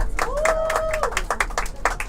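A subway audience in New York applauds a street performer, scattered hand claps rising in short bursts at close range, with a sustained voice or tone running underneath.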